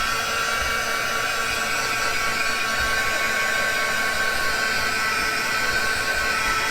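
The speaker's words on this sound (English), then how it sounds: "I'm gonna dry this really quick with my heat gun" Heat gun blowing hot air to dry craft paper for ephemera making: a continuous loud, steady whooshing fan drone with a high whine, close up and unbroken for several seconds, no talking.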